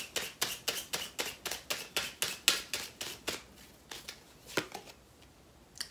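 Tarot cards riffled and shuffled in a steady run of about fourteen crisp, close slaps, then a few slower flicks as cards are drawn and laid down, with no voice.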